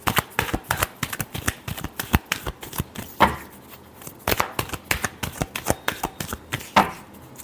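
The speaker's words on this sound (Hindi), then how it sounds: "last shuffle" Tarot cards are shuffled in quick, crisp riffling bursts with repeated sharp slaps and flicks, close and fairly loud, with no talking over them.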